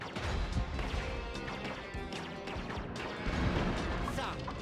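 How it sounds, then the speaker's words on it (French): Cannons fire in the Grendizer video game, a dense run of heavy crashing impacts and booms overlapping one another, loud and busy against a background of game sound and voices. "Faites chauffer les canons."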